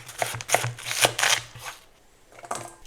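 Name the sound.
knife cutting half a tomato and half a red onion into cubes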